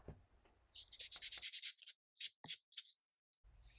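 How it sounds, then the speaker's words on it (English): Very fine sandpaper rubbed over a tiny 1:12 scale miniature piece, producing short raspy strokes in quick bursts with brief pauses, close and quiet. "I'm using a very fine sandpaper here."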